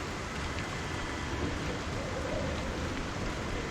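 Steady, even rain in a video game hisses softly throughout, a constant wash of noise with no breaks.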